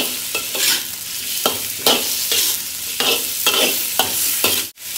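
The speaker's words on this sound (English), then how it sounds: "we marinate with the beef and we sear and mix with coriander and garlic flavor" Beef seared in a hot pan with coriander root and garlic gives a continuous sizzle, broken by regular scraping strokes of a stirring utensil, close and clear with no talking.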